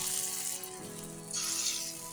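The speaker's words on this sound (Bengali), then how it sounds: "এখন আমি বড়াগুলো ভেজে নেব" Mung dal fritters fry in hot mustard oil in a wok, a steady close hiss of sizzling that swells louder partway through as more batter hits the oil.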